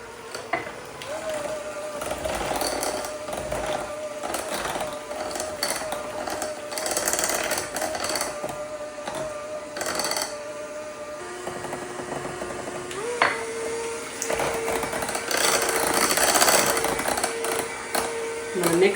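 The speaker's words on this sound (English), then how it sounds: "We're going to take our hand mixer and we are going to add the eggs one at a time." A hand mixer whirs steadily as eggs are beaten one at a time into cream cheese for a cheesecake pumpkin roll, the motor drone shifting pitch partway through, close and continuous.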